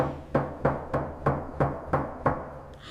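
Seven evenly spaced knocks on a hotel suite door, close and firm, each a sharp wooden thud with a short ring, then stopping; no voices.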